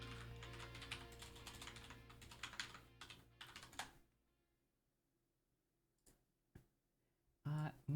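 Rapid typing on a computer keyboard, dense clicking keystrokes for about four seconds, then a quiet gap with a couple of isolated taps before a voice begins at the end.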